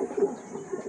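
Pet homing pigeons cooing softly and continuously in a backyard coop, low murmuring calls rising and falling close by with no talk.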